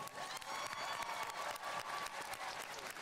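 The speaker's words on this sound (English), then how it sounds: "Another round of applause for Lola" A commencement audience gives another round of applause for Lola, steady crowd clapping heard at a distance and fairly faint, with a few scattered cheers mixed in.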